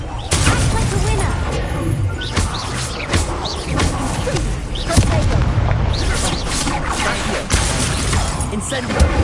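In Hogwarts Legacy, the Confringo spell sets off a run of booming explosive blasts through dense combat noise, with repeated heavy impacts under a speaking voice.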